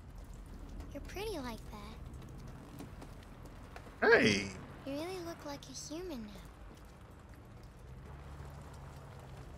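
Rain falls in the video game Detroit: Become Human, a steady, even hiss running beneath the whole scene while voices talk over it.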